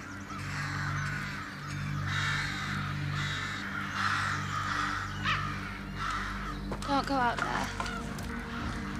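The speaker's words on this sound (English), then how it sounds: "they begin to hear the sound of crows." Several crows caw repeatedly in a Game of Thrones scene over a low steady hum, their harsh calls coming in bursts, with brief voices mixed in.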